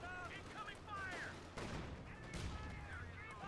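Battlefield gunfire in the World War II strategy game Company of Heroes 2, a steady mix of rifle and machine-gun bursts with faint explosions, loud and continuous for the whole stretch.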